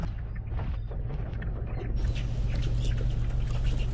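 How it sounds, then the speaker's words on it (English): Light irregular tapping and pattering of a small bird on a car roof, heard from inside the car over a low engine-like hum, faint scattered clicks growing busier partway through. "Hear him tapping on the roof."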